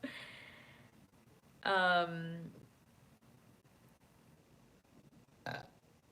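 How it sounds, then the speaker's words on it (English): A person hiccups close by indoors: one loud voiced, squeaky hiccup with a falling pitch, then a shorter, sharper one a few seconds later, with quiet room tone between. "Sorry, I have hiccups now."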